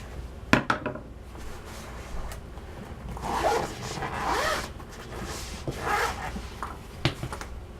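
A zip on a camera-gear carrying case is pulled open in a few short scratchy runs, alone and close, with light handling knocks around it.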